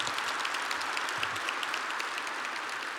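A roomful of people at a Georgia Chamber breakfast keeps applauding, a thick, even patter of many hands clapping continuously and fairly close, with no speech on top.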